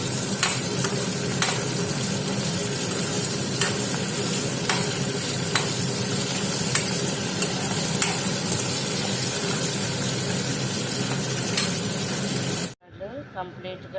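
Peanuts frying in oil with cumin for peanut chutney, a dense continuous close sizzle with occasional sharp crackles and pops, cutting off abruptly near the end.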